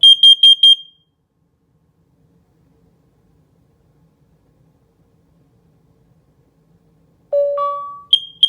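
A Nest Protect smoke and carbon monoxide alarm sounds a quick burst of sharp beeps during a test, then a long silence, then a rising electronic chime and more beeps, loud and close, with no voices.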